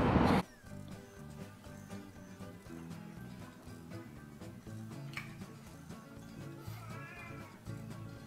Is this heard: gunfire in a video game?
no